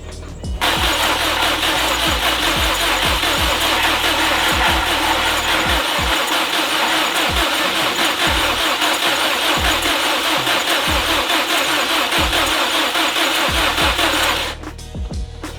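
Subaru WRX STI engine cranking on first start with a fast, steady starter churn and rhythmic compression pulses, loud and close, running continuously for about fourteen seconds before cutting off.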